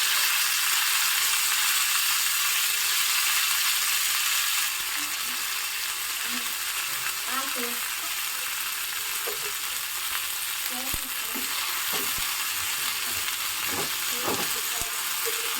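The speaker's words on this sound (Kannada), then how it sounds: "ಈಗ ಇದಕ್ಕೆ ನಾನು ಚೆನ್ನಾಗಿ ತೊಳೆದು ಹೆಚ್ಚಿ ಇಟ್ಕೊಂಡಿರುವಂತಹ ಮೆಂತ್ಯ ಸೊಪ್ಪನ್ನು ಹಾಕ್ತಾ ಇದ್ದೀನಿ." Chopped, washed fenugreek leaves go into a pan of cumin and ghee and sauté with a steady sizzle, with scattered stirring scrapes and clicks as the leaves are turned.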